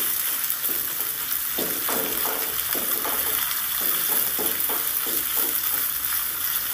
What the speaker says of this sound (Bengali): পেঁয়াজগুলোকে আমি এই তেলের মধ্যে ভেজে নেব।